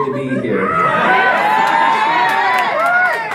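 A stand-up comedy crowd cheers, whoops and shouts loudly and continuously, a dense burst of many voices filling the room at close range.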